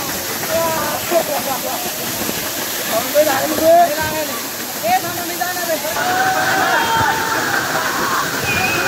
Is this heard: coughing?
no